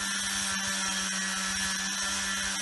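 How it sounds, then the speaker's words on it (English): A handheld power drill whirs steadily close up, spinning a cleaning attachment against the corroded electrical connections of an old Dinky toy motor, a continuous high buzzing with no pauses. "I've got a drill here."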